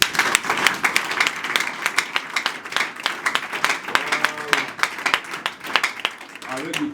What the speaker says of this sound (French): Est-ce qu'on peut applaudir pour les chefs?